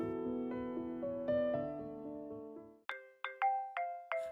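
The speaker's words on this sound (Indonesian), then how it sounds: "Pit, David, HP kamu bunyi tuh." Mobile phone ringing in an animated film, a melodic ringtone of chiming notes descending in sequence, then several sharp repeated bell-like pings, clear and close with no talk.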